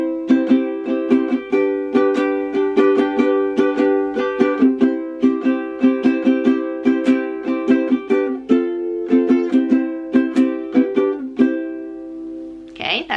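An orange plastic ukulele is strummed and picked alone, ringing bright chords in a steady rhythm for several bars before ending with a short scrape.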